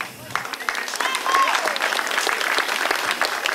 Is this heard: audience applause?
yes